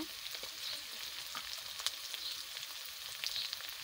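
Onion and garlic paste fries in hot oil with spices in a home kitchen, a soft, steady sizzle broken by occasional sharper crackles and stirring scrapes, with no talking.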